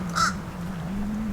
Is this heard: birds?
yes